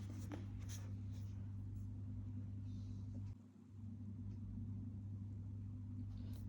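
Chalk or marker writing a math step for the quadratic formula on a board in a classroom, faint scratchy strokes under a steady low hum.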